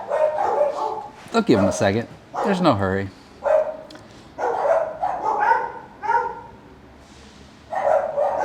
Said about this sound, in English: the dogs bark at me from the neighbor